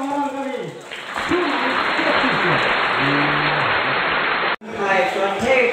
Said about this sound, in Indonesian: Boleh kita minta tepuk tangan yang meriah untuk layang orang kami